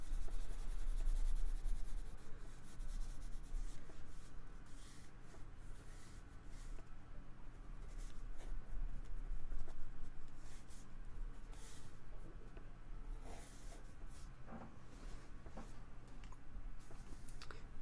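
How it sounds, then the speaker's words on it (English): Soft pencil shading on paper, the side of the lead rubbed in long, light strokes to draw a cat's stripes; a continuous quiet scratching texture with brief clicks, close and steady, no voices. "I'm just using like the soft side of the pencil."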